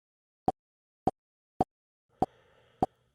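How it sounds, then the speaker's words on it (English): RuneLite's metronome in Old School RuneScape ticks once per game tick, giving five sharp, evenly spaced clicks about 0.6 seconds apart, with faint game ambience rising under the last two. "in the RuneLite client, there is an option to turn on the metronome"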